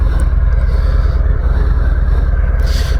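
A low, throbbing engine rumble from a 2023 Harley-Davidson Softail Heritage with a 114 engine, ridden, pulses steadily up close, with a faint rushing and scraping noise layered on top, no voices.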